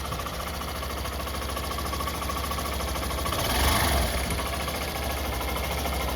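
A Hero Glamour BS6 motorcycle engine idles steadily after timing chain fitting, with an even mechanical hum and faint ticking, close by, with a brief slight swell in the middle.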